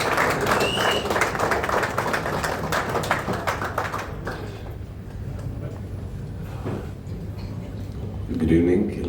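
An audience applauds as Kichcha Sudeep is welcomed onto the stage, dense clapping for about four seconds that then thins into scattered claps and crowd murmur.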